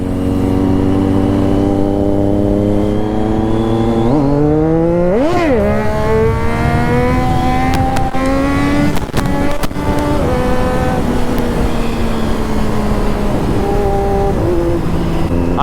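Motorcycle engines rev loudly and continuously during a group festival ride, close and dominant, with rising and falling pitch sweeps as the bike accelerates and shifts, and other vehicles roaring around it.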